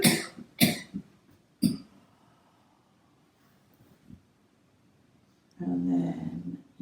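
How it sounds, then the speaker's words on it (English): Three sharp coughs in quick succession near the start, a faint one later, then a longer rough burst of coughing or throat noise at the end. "I can hear you coughing"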